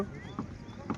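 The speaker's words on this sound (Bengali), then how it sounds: "যে পানার মধ্যে আমাদের নৌকা চলে যাচ্ছে" A boat pushes through dense floating water hyacinth on a river with a soft, steady swishing and two brief rustling bursts against a light wind.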